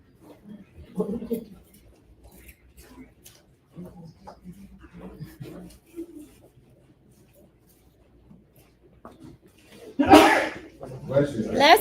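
A single sharp sneeze bursts out loudly near the end, following a stretch of quiet, scattered sounds and faint talk.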